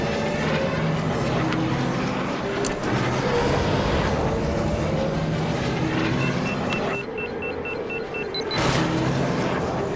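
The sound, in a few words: podracer engines boosting in video game Star Wars Episode 1 Racer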